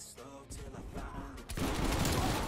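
Street Sweeper shotgun firing in Call of Duty, a dense, loud burst of rapid gunfire that swells and grows heavier toward the end, with game noise throughout.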